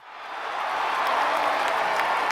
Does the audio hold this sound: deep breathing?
no